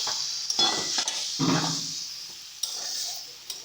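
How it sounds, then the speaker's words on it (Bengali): Mixed vegetables are sautéed with a splash of water in a pan, giving a steady close sizzle broken by scraping and clattering stirring strokes. "দিয়ে এটাকে আবার একটু কষিয়ে নিচ্ছি"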